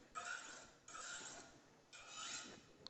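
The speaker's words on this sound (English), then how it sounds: "I'll do one to take off the burrs at the end." A knife is drawn across a sharpening stone in three separate rasping strokes to take off the burr, each a short, close, quiet grinding scrape with brief gaps between, no voices.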